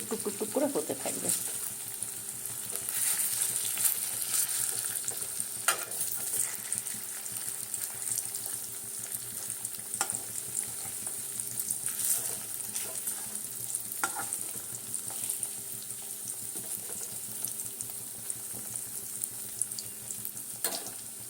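Paneer pakoras fry gently in oil on a low flame, a steady soft sizzle running throughout with occasional clinks and stirring sounds.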